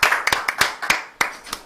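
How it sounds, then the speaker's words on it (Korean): A few people clap in a small studio at the close of a Korean political talk broadcast, with about nine distinct, loud, close hand claps in a loose, uneven rhythm over under two seconds. "박수 치면서 끝낼게요"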